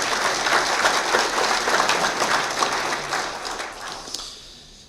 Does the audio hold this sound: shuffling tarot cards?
no